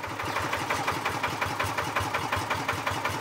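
A Kubota S series diesel engine idles smoothly, its steady rhythmic chugging even and close, running alone without talk.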